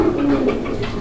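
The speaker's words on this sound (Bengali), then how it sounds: "দেখেন কবুতরগুলো দেখেন, অ্যাক্টিভিটি দেখেন আপনারা।" Pigeons coo with a short, low throaty call at close range over steady background noise.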